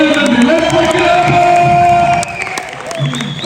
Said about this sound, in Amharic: ጭብጨባ ይገባል።